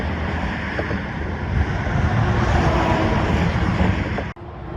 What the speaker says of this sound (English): And here comes a big truck.